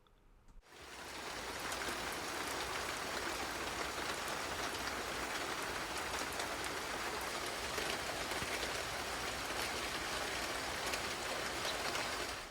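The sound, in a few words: rain falling outside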